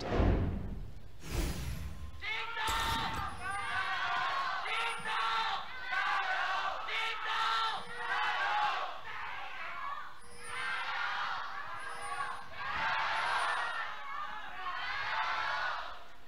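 A large esports arena crowd in Shanghai at a League of Legends match roars and cheers in sustained, surging waves, with shouts rising and falling and faint electronic effects above the noise.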